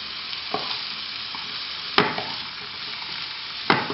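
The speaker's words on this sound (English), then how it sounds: "I'm going to put my broccoli into the frying pan" Broccoli and carrots sizzle steadily in butter or oil in a frying pan, with a few sharp scraping clicks of a stirring utensil cutting through the constant frying hiss.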